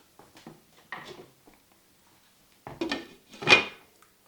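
A lid goes onto a pan of pepper steak stir fry with a few light metallic clinks and taps, ending in a brighter clatter as it settles into place, close and isolated in a quiet kitchen.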